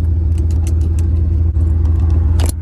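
A Corvette's engine drones low and steady as the car is driven, with a constant deep hum and a few faint clicks and rattles over it.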